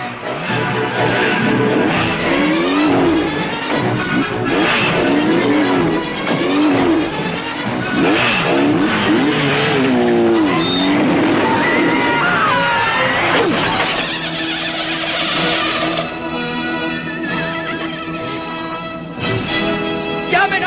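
A motorbike engine revs hard and pulls away, its pitch rising and falling through several gear changes, loud and close over a jumble of overlapping voices and street noise.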